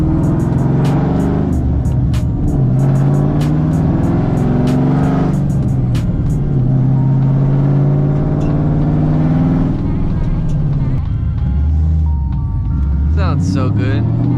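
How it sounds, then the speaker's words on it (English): A Ford Mustang with a 2-valve V8 revs loudly at close range, its deep engine drone rising and falling through repeated throttle blips, while an old exhaust left loose in the trunk rattles along. "Don't mind that loud rattling. It's my old exhaust in the trunk."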